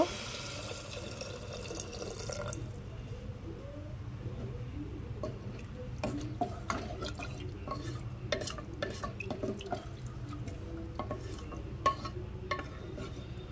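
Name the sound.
water poured into fried ghugni mixture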